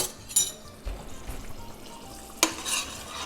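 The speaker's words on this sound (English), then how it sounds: "so you can see we're just moving this garlic around" Garlic fries gently in olive oil for aglio e olio as a spoon moves it around, a soft sizzle broken by a couple of sharp scrapes and clinks, close and fairly quiet with no talk.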